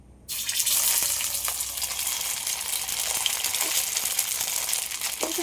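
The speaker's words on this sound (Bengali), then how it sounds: "এবার একটা করে রুটি ভেজে নেব" Soaked bread slice frying in a pan, a steady loud sizzle that bursts in near the start and continues unbroken, with a few faint clinks over it.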